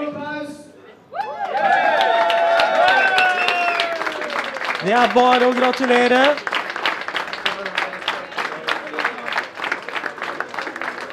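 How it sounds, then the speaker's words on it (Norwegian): A crowd cheers and applauds a new Norwegian poker champion at the 2012 championship in Dublin. Voices, laughter and chatter come first, then dense clapping that thins into scattered claps, with a person speaking over it. "Stor applaus."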